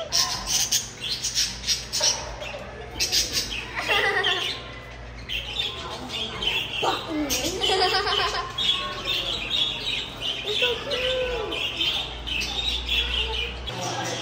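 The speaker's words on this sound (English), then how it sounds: "He said Ami has those birds" Birds at an Arkansas petting zoo squawk and chirp in repeated harsh, close calls, mixed with people talking nearby.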